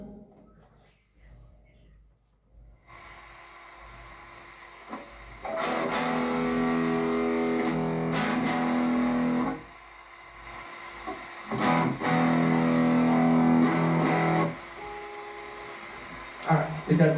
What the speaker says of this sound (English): So now the distortion with the neck pickup on a Telecaster